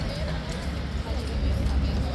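Hooves of a King's Guard horse clip-clop on hard ground, loud and close, with overlapping talk and background bustle.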